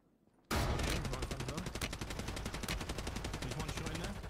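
Rapid automatic gunfire in the Warzone battle royale game, a dense, loud string of shots bursting in after a brief quiet and continuing steadily to the end.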